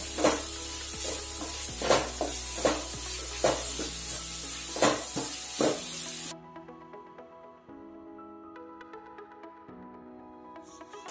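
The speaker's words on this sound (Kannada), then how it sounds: "ಈರುಳ್ಳಿ ಹಾಕ್ತಿದ್ದೀನಿ. ಮೊದಲಿಗೆ ಈರುಳ್ಳಿ ಫ್ರೈ ಮಾಡಬೇಕು ಚೆನ್ನಾಗಿ." Onions frying in hot oil in a pan for Savaji mutton curry, a dense close sizzle punctuated by several sharp stirring scrapes, cutting off abruptly partway through and leaving faint clinks and a low hum.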